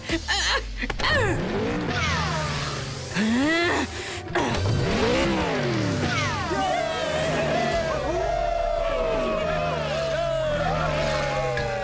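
A cartoon car speeds through a chase, engine revving and tires squealing in loud rising and falling sweeps that run continuously, mixed with excited cartoon voices and music.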